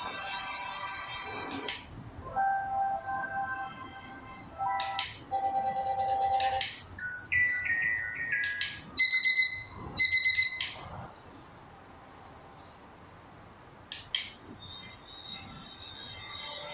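A series of different electronic alarm tones from a Kreafunk Bell wireless alarm clock plays one after another: beeps, trills and chimes, each brief, separated by short pauses.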